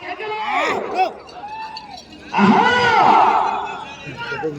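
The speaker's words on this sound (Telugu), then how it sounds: "గట్టిగా చప్పట్లు కొట్టే చివరికి వెళ్ళిపోతాయి" A crowd at a bull race shouts and cheers loudly, with many overlapping voices rising in a sustained roar.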